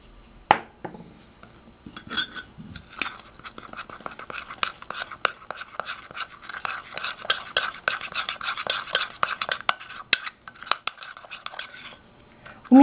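A spoon stirring and rubbing cocoa with vanilla sugar and a spoonful of boiling water in a small dish, making quiet irregular scraping and clinking taps close by, with soft breathy sounds in between.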